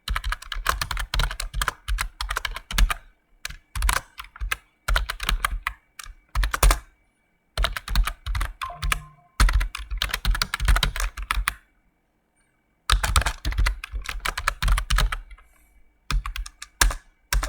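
Fingers type code on a computer keyboard in quick, clattering bursts broken by short pauses, close-up and clear with no one talking.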